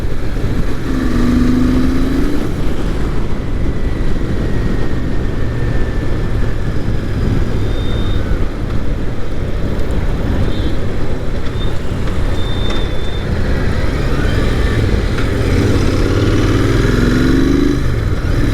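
A Royal Enfield Interceptor 650 motorcycle roars loudly and steadily, cruising along with constant rumbling, wind noise, and occasional faint higher whines.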